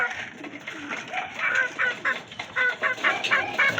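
White night flyer pigeons coo and flutter close by in a steady low murmur of bird calls, with a voice speaking faintly under the cooing.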